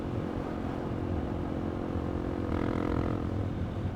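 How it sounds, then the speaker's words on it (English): A motorcycle engine drones steadily while riding on roads after heavy rain, a close continuous low hum with a slight rise in pitch partway through, no talking. "This bike just sounds so good"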